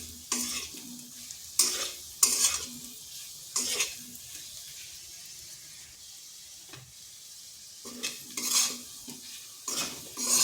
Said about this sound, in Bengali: আলুর সাথে মশলাটা কষে নিচ্ছি